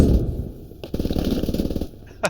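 Rapid automatic gunfire in a video game, fired in fast rhythmic bursts close up that run for about a second, then trail off into quieter background game noise.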